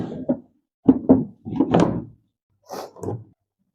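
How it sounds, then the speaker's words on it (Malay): A wooden drawer is slid into a newly assembled wardrobe cabinet, giving several close, hollow thuds and knocks in short bursts, then a pair of softer bumps after a brief pause. "Masukkan laci."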